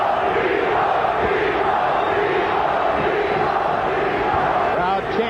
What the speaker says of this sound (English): Crowd chanting Tito.